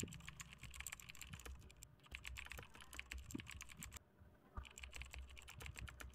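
Rapid, continuous typing on a computer keyboard clatters in close, quiet detail, with brief pauses between bursts of keystrokes and no talking.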